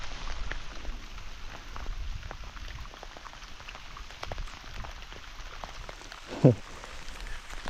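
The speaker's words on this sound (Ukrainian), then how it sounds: "Теплий літній дощик такий поливає, все затягнуло небо." Warm summer rain falls on a strawberry field under an overcast sky, making a soft, continuous patter of drops that stays faint and even, with a single brief thump near the end.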